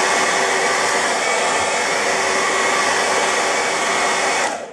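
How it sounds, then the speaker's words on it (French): A hair dryer blows at close range in a steady, loud whoosh of air and motor whine that holds constant for a few seconds and then cuts off. "De nouveau, petit coup de sèche-cheveux."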